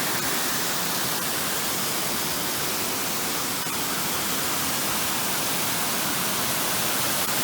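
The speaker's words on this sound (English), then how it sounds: "normally I think the creek is supposed to flow underneath the bridge" Creek water rushing under and around a bridge, a dense, steady broadband roar filling the whole stretch with no letup and no voices.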